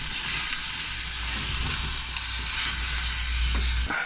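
Kidney beans being stirred into chilli con carne frying in a hot pan give a steady, close sizzle with faint scraping from the stirring, continuous throughout.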